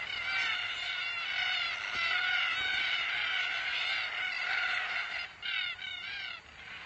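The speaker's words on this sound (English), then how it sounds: "Red-tailed black cockatoos join in the fun." A flock of red-tailed black cockatoos calls continuously over peanut fields, a chorus of harsh, grating, overlapping screeches that stays fairly loud throughout.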